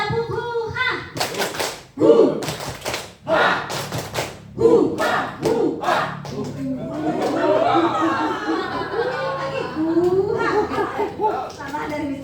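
Teachers at a school mentoring session perform the tepuk huhah group clapping chant: bursts of sharp rhythmic claps alternate with loud shouts, followed by chatter and laughter from the room.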